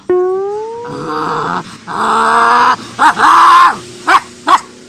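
A man imitates a big dog in a comedy sketch. He gives a long, loud, howling bark, then a run of shorter gruff woofs, all voiced close up.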